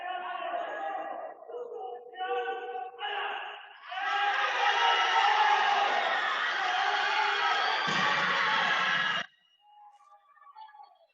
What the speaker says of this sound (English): A big cheer in Venezuela